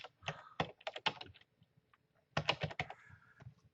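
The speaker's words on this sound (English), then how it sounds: "I can type in any URL that I want my prospect to go to." Someone types a URL on a computer keyboard, producing two quick bursts of close, crisp key clicks separated by a short pause.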